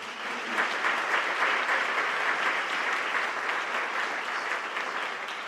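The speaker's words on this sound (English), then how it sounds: "give your staff and your coaches a big round of applause" An audience applauds its staff and coaches, dense sustained clapping that fills the room evenly for several seconds with no talk over it.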